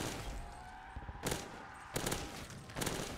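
Carbine gunfire in a custom Mario-themed zombies map, three distinct short bursts of shots spaced about a second apart, sharp and fairly loud over a low game ambience.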